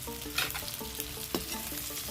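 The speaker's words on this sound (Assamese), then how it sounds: "এতিয়া মই ইয়াতে আকৌ এই ভেন্দিখিনি দি দিছোঁ" Okra hits a pan of frying onions, giving a constant, soft sizzling hiss with a few small crackles and a faint steady hum beneath, with no one speaking.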